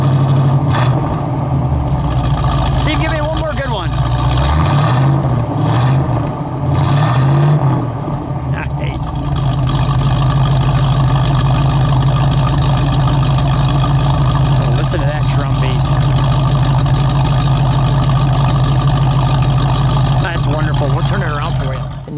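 A 1970 Oldsmobile Toronado GT with a front-wheel-drive 455 cubic-inch V8 idles with a steady low rumble, then revs up loudly in a couple of bursts near the start before settling back to a heavy idle, with people talking over it.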